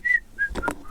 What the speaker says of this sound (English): What are you whistling at?